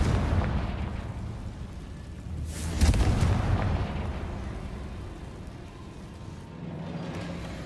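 A fire spell explosion goes off in the video game Hogwarts Legacy, a single deep boom with a burst of rumble mid-clip over a steady background of game ambience.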